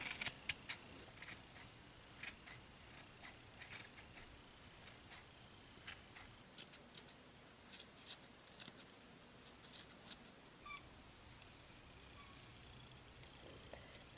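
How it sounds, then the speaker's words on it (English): Scissors snip yarn strands over and over, quick crisp clicks in an uneven rhythm, close but faint against a quiet room while a crocheted pom-pom is trimmed. "We're going to trim all the yarn strands down."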